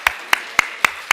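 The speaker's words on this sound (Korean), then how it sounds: "주님께 박수 영광 돌리겠습니다" Rhythmic hand clapping in praise during a church worship service: five sharp, evenly spaced claps in steady unison, fairly close and alone with no talk.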